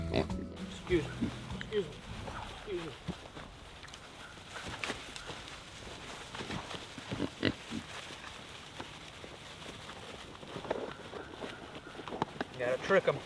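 Pigs on a family homestead grunt and oink while being moved, with short snorts and scuffling steps scattered through, under intermittent voices nearby.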